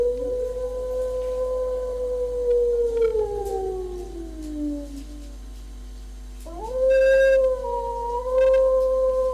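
A wolf howls in long, sliding tones, a drawn-out falling howl followed by a second rising one, fairly close and clear against a low steady hum.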